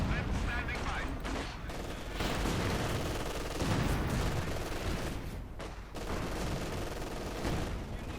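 Dense, continuous gunfire and explosions from a Company of Heroes 2 real-time strategy battle, grenadiers fighting an advancing engineer force, loud bursts layered over a rumbling battlefield bed with a commentator's voice mixed in.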